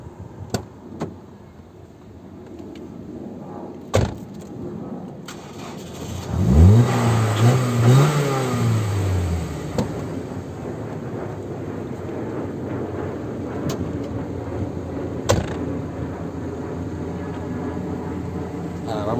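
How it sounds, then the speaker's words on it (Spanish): A 1992 Nissan Primera with the SR20DI engine cranks and catches, then rises in a brief rev before settling into a steady, close idle that runs on alone. "vamos a poner en marcha ya el coche."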